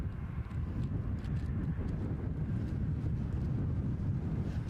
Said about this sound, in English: It's a freighter, ASL. Off to Nels Air Hub, a 737 freighter conversion.